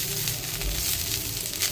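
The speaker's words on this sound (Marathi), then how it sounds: "आता तेल थोडंसं कांद्याला लावायचं बघा आणि तव्याला लावून घ्यायचं" Oil sizzling softly on a hot tawa that has been rubbed with onion, a steady faint crackle and hiss close by with no talk over it.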